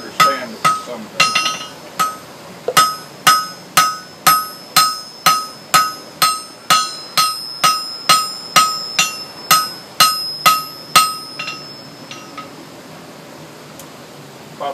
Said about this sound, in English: the side of that hammer I was using is called peen